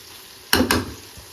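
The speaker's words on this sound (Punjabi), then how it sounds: "ਇੱਧਰ ਆਪਾਂ ਜਿਹੜੀਆਂ ਭਿੰਡੀਆਂ ਸੀ ਇੱਦਾਂ ਪਾਤੀਆਂ ਵਿੱਚ" Okra hits a hot tempering for khichdi with two quick, loud sizzling bursts that fade into a low crackle.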